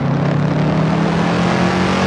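Shelby Cobra 427 with a manual gearbox pulls away onto a track, its engine droning loud and steady at close range, a continuous low rumble throughout with no voices.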